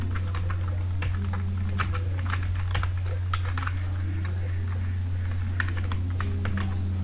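Keys clatter steadily on a computer keyboard while text is typed into an MS Word document. The taps come in quick, irregular bursts over a constant low hum, and no one speaks.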